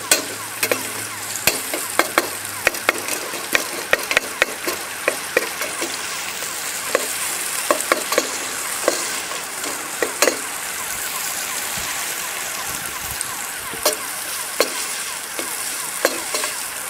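Meat sizzling and frying steadily in a hot pan for the whole stretch, with repeated scraping and stirring knocks as pieces are turned, loud and close with no talking.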